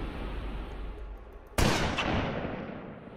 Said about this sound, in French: Il faut que tu tires maintenant.